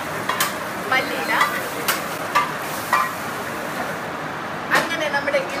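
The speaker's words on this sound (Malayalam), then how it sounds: "തിളച്ച് പൊങ്ങി സിസിലിംഗ് ചിക്കൻ ആയിട്ട് ഇവിടെ ഇരിക്കുകയാണ്." Tender coconut chicken sizzles and bubbles in a pan as a Kerala-style dish finishes cooking, a steady close frying hiss with intermittent stirring scrapes and faint voices in the background.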